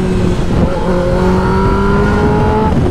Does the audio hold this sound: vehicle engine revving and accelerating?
yes